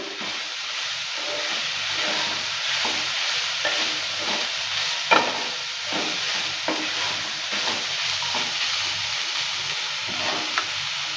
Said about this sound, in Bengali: দেওয়ার পর নেড়ে চেড়ে নিচ্ছি আবারও